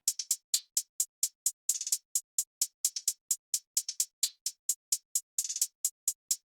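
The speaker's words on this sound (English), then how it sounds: "The hi-hat is a combination of a splice loop and some straight 16 hi-hats" Programmed hi-hat loop from a splice sample layered with straight sixteenth-note closed hats in a beat, crisp bright ticks in a steady rapid pulse with occasional quick rolls, dry and alone.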